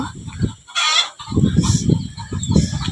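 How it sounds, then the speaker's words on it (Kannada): Hens clucking and cackling in alarm at a rural home, repeated agitated bursts close by with sharper high calls between them, no talk over them. "ನಮ್ಮ ಕೋಳಿ ಕೊಕ್ಕಾಡ್ಸದ ಕೊಕ್ಕಾಡ್ಸದ"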